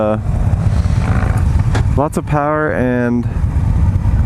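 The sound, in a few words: 2017 Victory Octane V-twin cruiser motorcycle engine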